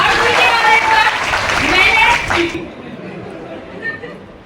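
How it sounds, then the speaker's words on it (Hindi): An audience at a training event in Nainital bursts into hearty clapping mixed with chatter. The applause fades out after about two and a half seconds, leaving quieter room sound and a few murmurs. "जोरदार तालियां"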